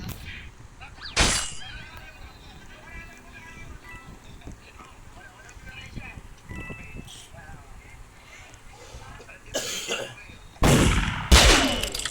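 Sharp video game gunshot bursts cut through a busy, noisy game soundscape, with loud cracks near the end.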